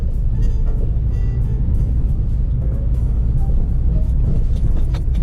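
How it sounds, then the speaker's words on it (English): A car rolls over a rough, bumpy road on a rainy day, with a steady low cabin rumble and small rattles and knocks from the bumps, heard from inside the vehicle with no talking. "Jesus Christ, these roads, man"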